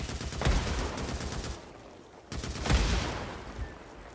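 Rapid video-game gunfire in a Horde Assault match, shooting at Freakers for headshots: two dense bursts of close, loud automatic shots separated by a brief lull.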